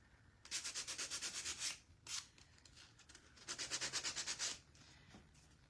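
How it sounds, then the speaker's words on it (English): Craft kit pieces for a gingerbread-in-a-mug DIY kit being hand sanded, two bursts of rhythmic, quick scratchy rubbing strokes, close but soft, separated by a brief single stroke and quiet pauses. "almost done getting all the pieces sanded"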